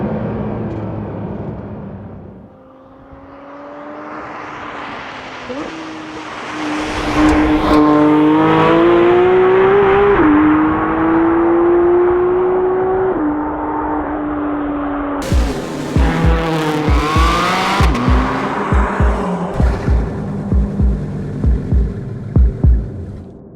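A Porsche 992.2 GT3 sports car is driven hard on Welsh roads in snowy weather. The engine note climbs through several revving pulls with gear changes between them, then gives rapid popping crackles on the overrun. It is loud and close, with no talk.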